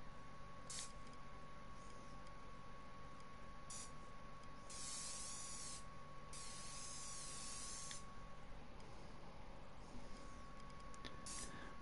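Spray paint tool in the Dreams PS4 game, a continuous airy hiss running steadily throughout with a few brief brighter sputters, no one talking.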